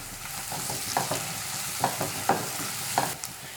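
Two sprigs of curry leaves hit hot oil in a pan of frying chicken liver, giving a quiet, continuous sizzle broken by a few sharp pops and stirring scrapes.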